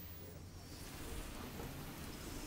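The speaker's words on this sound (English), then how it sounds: "Look, it's raining. I should be admiring the rain." Steady rainfall in the Watch Dogs open-world game, a faint, even wash of rain noise with low rumble underneath, continuous throughout without voices.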